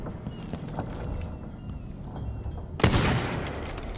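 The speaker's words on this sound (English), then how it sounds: "And now I can just shoot her, right?" A single gunshot in the stealth action game Dishonored 2, one sharp loud crack near the end after a stretch of quiet game ambience and soft footsteps.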